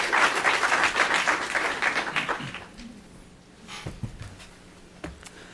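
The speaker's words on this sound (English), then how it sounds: "Some applause for these two guys." Brief audience applause for two panelists at a forum on U.S.-China private sector cooperation in the power sector; a burst of clapping dies out after a couple of seconds, leaving a quiet room with a few faint knocks and shuffles.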